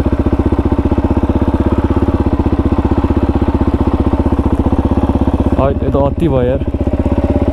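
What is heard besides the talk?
dirt bike engines running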